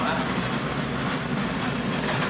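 Arkansas & Missouri Railroad passenger train rolling on rails near the Arkansas River, heard from on board as a steady, loud low rumble and rattle throughout, with no distinct clacks and no talk.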